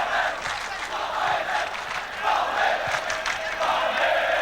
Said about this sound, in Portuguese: gritando o nome do Palmeiras, cantando nas arquibancadas